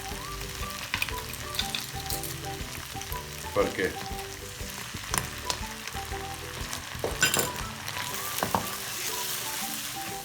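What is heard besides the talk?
garlic ginger paste frying in butter with onions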